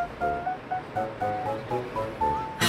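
Sea surf washing onto a Korean fishing shore during a lull after heavy waves, a steady roar rising in short repeated surges about every half second, with a sharper hiss of broken water at the end.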